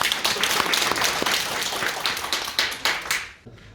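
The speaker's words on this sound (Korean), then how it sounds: "큰 박수 한번 주시죠." An audience at a press center event claps in a dense, moderately loud round of applause that fades out at the end.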